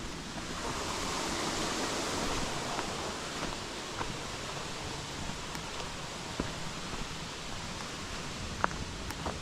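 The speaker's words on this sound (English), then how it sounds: "This is that waterfall I was telling y'all about." Waterfall at Mayo River State Park in North Carolina, seen from the top: a steady, broad rush of falling water that fills the air evenly and holds at a moderate level throughout, with no voices.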